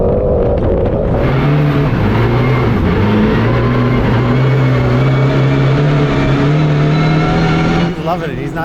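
A Mitsubishi Evo 9 rally car races along a rally stage with hay bales and jumps, its engine loud and close, revving and shifting in rising, falling tones under steady commentary.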